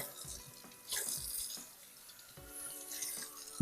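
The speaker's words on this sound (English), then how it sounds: "Now I'm going to get some warm water going." A tap runs steadily into a sink, warm water hissing and splashing close by with small surges in flow.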